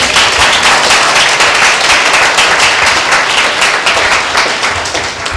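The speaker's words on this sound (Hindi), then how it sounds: "उसके नाम को हम जोर से ताली देंगे" A church congregation at a Tuesday meeting bursts into loud, dense applause, many hands clapping at once in a continuous close roar that holds steady for the whole stretch.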